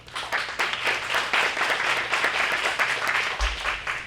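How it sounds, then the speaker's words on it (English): A lecture hall audience at the Weiss Lecture on gender equality claps for the speaker, even, continuous applause at moderate distance with a low hum beneath and a brief thump near the end. "let's give her a round of applause"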